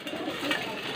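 Racing pigeons coo eagerly while being fed grain, a brief, close, continuous throaty murmur from several birds.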